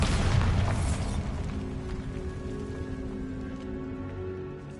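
A Bombarda spell explosion in the Hogwarts Legacy video game opens with a loud, deep boom, then a rumbling, crackling decay that fades steadily over several seconds.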